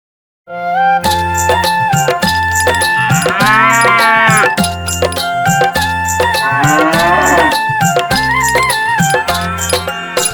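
A couple of drawn-out cow moos rising and falling over a loud, steady, upbeat music backing.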